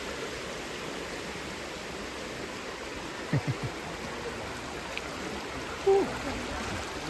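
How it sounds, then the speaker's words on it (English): River flowing past a spot on a trip around Kavala and Philippi, a steady broadband rush of water from nearby, with a few brief knocks and a short exclaimed breath over it. "Can you hear the sound of the river?"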